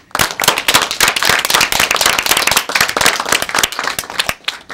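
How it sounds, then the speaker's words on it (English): Lively applause from an audience at a panel event, sharp close individual claps layered into a dense, rapid clatter that swells quickly and fades near the end. "let's give them a round of applause"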